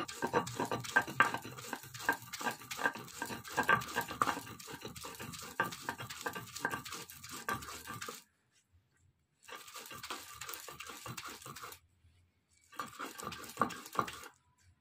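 Taro leaves and prawn heads are ground on a shil pata stone, making close, gritty, rhythmic scraping and rolling strokes. The grinding runs in a steady burst, breaks off in two short silences, then resumes.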